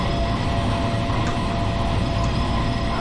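A loud, constant low rumbling grind fills a Long Island Rail Road train running through a tunnel toward New York Penn in Train Sim World 3, with no talk over it.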